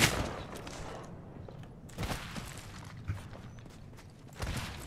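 Bursts of gunfire during an Apex Legends firefight, with a few sharper cracks spaced over a steady background of game noise, at moderate distance and without talk.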